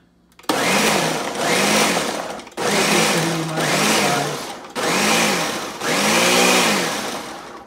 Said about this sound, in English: So we're just gonna blend it.